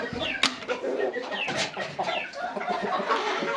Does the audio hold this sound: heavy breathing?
no